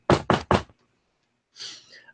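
Three quick, loud knocks on wood in a steady rhythm, close by, followed after a pause by a brief, fainter breathy sound.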